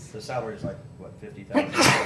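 A sneeze bursts out near the end of a spoken exchange at a county commission meeting, a single loud, sharp burst right after people talking in an indoor room.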